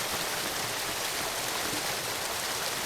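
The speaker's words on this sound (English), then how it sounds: "Using spatial audio on the waterfalls" Waterfall with spatial audio in a video game, a dense, steady broadband rush of falling water, loud and unbroken throughout.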